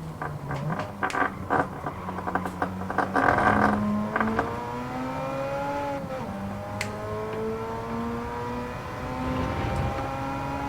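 Racing car engines in Gran Turismo 7, with a close engine revving and shifting through gears in rising and falling whines, sharp changes early on, then a sustained climbing drone as other cars sound faintly alongside.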